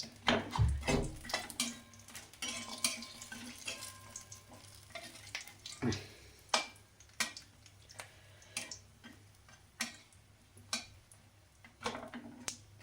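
Broken lentil dumplings (bori) fry in a pan, giving off irregular crackling pops and sharp ticks with occasional stirring clatter over a low sizzle, no voices.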